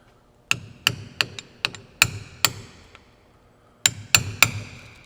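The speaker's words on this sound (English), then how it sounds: "then hit it with a hammer and get it to go out that way." Sharp metallic hammer blows driving out a rusty rear axle seal on a 2012 Dodge RAM 1500 5.7L in two bursts: about eight uneven strikes, a short pause, then three more ringing hits, close and loud with no talking.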